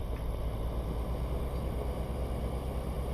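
1980s Volvo F10 truck in Euro Truck Simulator 2 hauling 23 tons uphill in fourth gear at full throttle, a steady low engine drone with faint hiss, continuous and even with no speech.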